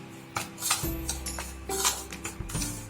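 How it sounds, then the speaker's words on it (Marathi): Gooseberry pickle mixture being mixed with a spoon: a few close, light metallic clinks and scrapes against a bowl, in short uneven strokes. "हे मिश्रण आपण व्यवस्थित पद्धतीनं मिक्स करून घेऊन"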